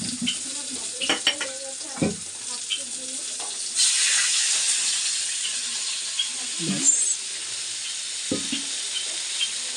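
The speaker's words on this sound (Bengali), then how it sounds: "এবার দেবো একটু হলুদ ব্যাস হলুদ দিয়ে এবার একটু জল দিয়ে দেবো" Water hits turmeric sizzling in a hot pan while cooking a Bengali hilsa and brinjal curry, giving a sudden loud hissing burst of steam that fades, with scattered pan clatter and spoon scrapes around it.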